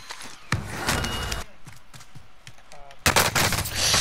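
Loud bursts of automatic gunfire in a Call of Duty battle royale video game, two heavy volleys with scattered shots between them, close and harsh, with a voice speaking faintly in the gaps.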